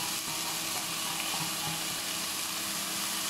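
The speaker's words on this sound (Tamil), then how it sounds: "நம்ம வதக்க வதக்க சுருங்கிட்டே வருது பாருங்க, நல்லா சுருளை வந்துடும்." Spinach sautéing in a hot pan for a spinach, pea and almond soup gives a steady, close sizzling hiss that holds evenly throughout, with no talking.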